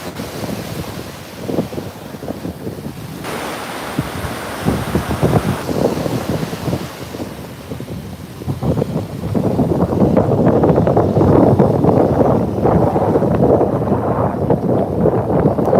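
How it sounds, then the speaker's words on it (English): Strong wind roars and buffets the microphone steadily throughout, with surf-like rushing growing louder in the second half. "It's super windy."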